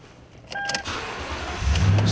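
A Toyota Tundra pickup truck engine cranks and catches, preceded by a brief two-tone interior chime, then settles into a steady low idle rumble that grows heavier toward the end, close by and moderately loud.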